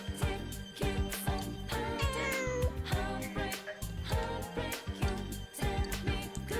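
Cat meowing in Persona 4 Golden, repeated short meows over a busy, rhythmic game music track that keeps going throughout, with no talking.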